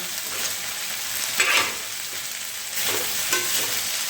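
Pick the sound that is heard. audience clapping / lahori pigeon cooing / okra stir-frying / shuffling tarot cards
okra stir-frying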